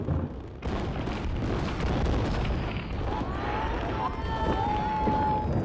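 Continuous rumbling booms and crackles of fireworks roll on before the Frontier Hotel casino demolition in Las Vegas, with whistling streaks rising partway through over the dense, loud barrage.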